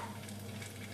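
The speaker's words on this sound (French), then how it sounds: "Là, je vais jeter mes oignons dedans." Chopped onions hitting a hot frying pan where bacon lardons are cooking for a miso sauce dish, giving a steady close sizzle with a low hum underneath and no voices.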